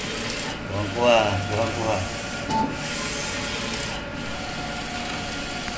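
An eco-solvent tarpaulin printer prints stickers, giving off a steady mechanical hum with rubbing, sweeping carriage passes. A voice speaks briefly near the start.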